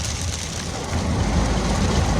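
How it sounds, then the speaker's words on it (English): Heavy monsoon thunderstorm rain pouring down in a dense, constant hiss on a desert highway, swelling slightly louder partway through, with a low rumble underneath. "The rain is falling like a water faucet out here."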